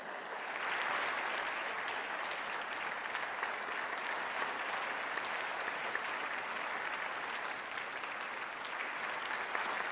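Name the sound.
audience applause welcoming the Prime Minister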